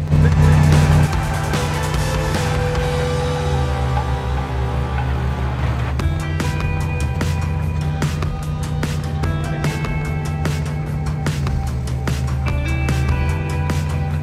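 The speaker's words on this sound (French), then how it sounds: "je mets les deux mini-pelles l'une contre l'autre et je fais 2 essais" Two mini excavators, a Rhinoceros and a Kubota, push against each other on their tracks in a strength test, with a steady loud diesel engine drone and grinding, straining track noise throughout, no talk heard.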